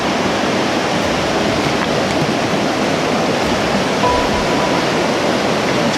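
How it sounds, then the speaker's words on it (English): Forney Creek in the Great Smoky Mountains rushes loudly and steadily at a deep wading crossing, a dense, unbroken roar of flowing stream water close by with no voices. "time for another pretty deep water crossing"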